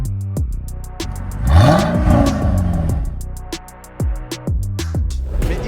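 A 300-horsepower Mercedes 500 SL convertible revs loudly up and back down in one strong sweep, set against a fast, regular train of sharp clicking pulses that pause briefly before resuming.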